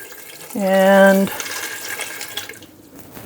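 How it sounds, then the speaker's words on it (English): Water pours from a kettle into an Instant Pot with a short, loud, rising gush lasting under a second, then fades into quiet room noise with a brief spoken word. "now I'm going to cover with water, and that's not quite enough. So let me get my kettle"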